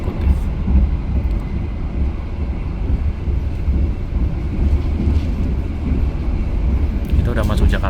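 Taksaka luxury train running on rails, a steady loud low rumble and rattle of the carriage continuing throughout, with brief higher squeaks near the end.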